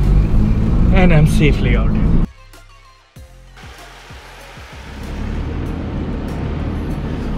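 Force Gurkha off-road vehicle powering out of an obstacle as the rear wheels hook, on a forested trail: someone talks first, then a quiet lull, then the engine builds into a steady, loud drone under light knocks.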